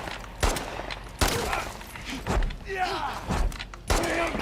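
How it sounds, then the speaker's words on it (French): Gunfire from a magazine being emptied into an enemy during a firefight in The Last of Us Part II, heard as several loud, sharp bursts spaced roughly a second apart over game sounds and background effects. "Putain, j'ai vidé mon chargeur sur lui"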